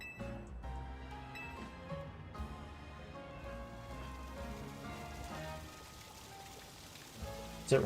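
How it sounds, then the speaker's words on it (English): A fountain in Pokemon Legends: Z-A gives off a steady, rain-like patter of falling and splashing water that runs unbroken from start to end at a moderate distance, with a few brief game tones layered over it. "I heard water and I was like, yes, finally! It was a fountain."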